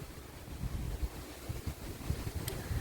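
Steady low rumbling wind buffeting the microphone, gusting unevenly throughout with no voices.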